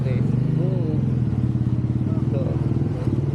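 A motorcycle engine idles with a rhythmic, close pulsing putter while it waits to be loaded onto a ship at a port, with voices talking over it.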